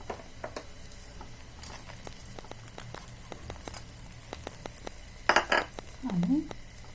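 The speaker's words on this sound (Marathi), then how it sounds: "चला तर आपण आता त्यामध्ये शेंगदाणे टाकून घेऊया" Peanuts tipped into a pan of cooking poha land as a brief clatter of pan and spoon, followed by a short scraping stir, after a stretch of faint kitchen clinks and taps.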